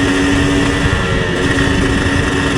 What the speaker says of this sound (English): it is amusing as heck to ride a two-stroke on the street.